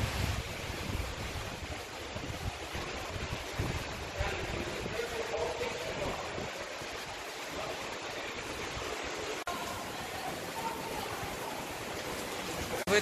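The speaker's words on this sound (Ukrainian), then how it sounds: "И есть еще место на скале, где просто из камня течет вода." Water trickles straight from the rock face in Avakas Gorge, Cyprus, running steadily in a continuous trickling rush, unbroken for the whole stretch, with a soft breezy hiss around it.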